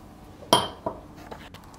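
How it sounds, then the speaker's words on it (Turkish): A sharp clink of nuts and a spoon against a pot as hazelnuts go into thickening Turkish delight, followed by a second softer knock and faint stirring scrapes, close and otherwise quiet. "Üzerine yarım su bardağı fındık ekliyorum."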